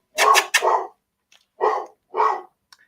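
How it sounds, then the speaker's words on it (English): A dog barks close by, two quick barks followed by two more spaced barks and a faint trailing yip, in an otherwise quiet room. "oh man, that dog"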